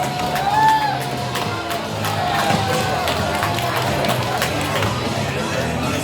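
A crowd cheers and whoops outdoors at the Hoquiam Loggers' Playday, a broad, steady roar of voices with scattered shouts and whistles, while an announcer talks over the noise.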